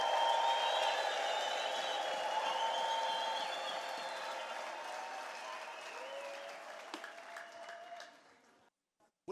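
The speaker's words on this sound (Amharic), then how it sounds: "ለዚህ ስም ክብር፣ እልልታ፣ ጭብጨባ፣ ምስጋና።" A church congregation bursts into sustained applause with high trilling ululation at a worship service, loud at first and gradually fading away to near silence.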